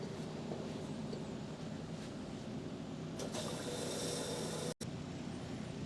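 An LG front-loading washer, running with its panel removed, rocks its drum back and forth mid-wash, giving a steady mechanical churn with light rattling and clicks and one brief dropout near the end.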